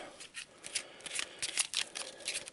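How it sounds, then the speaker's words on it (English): A deck of Arkham Horror game cards is shuffled by hand, giving a series of quick riffling bursts in irregular rhythm, close and alone. "shuffle and try not to drop them"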